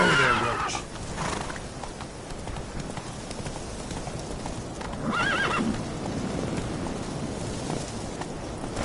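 Roach the horse in The Witcher lets out a loud whinny, then hooves clip-clop nearby and a second neigh follows midway.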